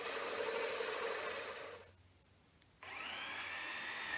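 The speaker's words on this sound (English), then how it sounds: "Let's drill a small hole first and then gradually make it bigger." A power drill bores a small starter hole in a wooden frame for a manual winnower, a close whining buzz that stops briefly mid-clip and then resumes at full speed.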